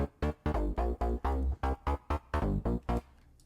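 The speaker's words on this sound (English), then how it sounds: "a bass sound that I've tweaked a little bit from that one" A synth bass patch built in Native Instruments Massive, widened with Ozone, plays a punchy rhythmic line of short, thick, loud notes with brief gaps between them, alone and up close.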